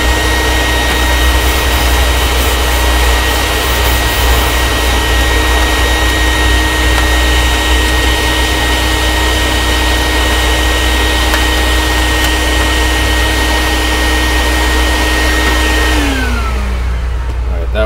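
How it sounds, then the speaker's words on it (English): A vacuum cleaner roars loudly and continuously up close, then winds down as it is switched off at the end. "So we have a vacuum."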